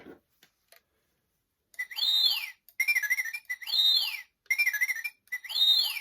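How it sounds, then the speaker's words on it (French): A series of chirpy R2-D2-style electronic beeps and warbling whistles from a toy robot in short repeated bursts, after a few faint clicks, with no talking. "Donc il fait le bruit de R2D2."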